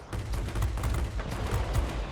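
Heavy aircraft cannons on a Japanese Army Air Force plane in World of Warplanes fire in a rapid, continuous string of thumping shots, loud and close with a dense rumbling under them.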